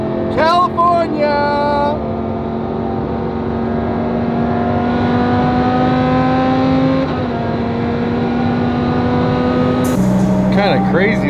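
Straight-piped Lamborghini Aventador V12 cruising on a California highway, its loud steady engine drone shifting pitch between gears, with people talking over it inside the cabin.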